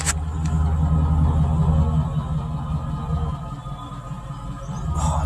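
Chevrolet Express van engine idling close at the tailpipe with a misfire problem, a steady low rumble with even pulsing that holds throughout at moderate loudness, with no talking.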